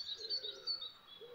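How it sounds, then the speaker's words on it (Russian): Wild birds sing outdoors in a large island city centre, with several short, high chirps and whistled phrases repeating near and clear over a soft background hum, no voices. "вот эти все песни, вот эти все птицы"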